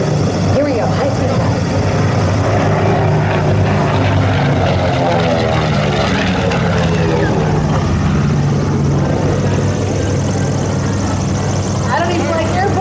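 A B-25 Mitchell bomber roars past in a high-speed airshow flyby, loud and close throughout, its engine pitch shifting as it sweeps by.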